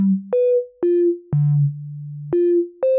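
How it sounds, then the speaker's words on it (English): Synth note sequence patched in VCV Rack, a run of clean tonal notes stepping between pitches with sharp attacks and short releases, one long low note in the middle, sounding alone and fairly loud. "now we can hear those notes playing again"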